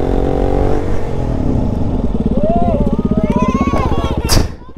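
Kawasaki H2R motorcycle revving hard while racing, with its pitch climbing and falling through sweeping rises and rapid pulsing, then a sharp burst and fade at the end, with a voice talking over it.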